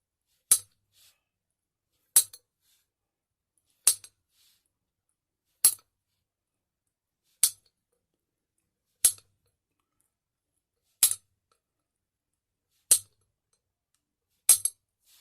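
Sharp, bright clicks as flakes are pressed off the bottom of a Bud Light Platinum glass bottle, nine evenly spaced snaps about every two seconds, close and isolated with silence between.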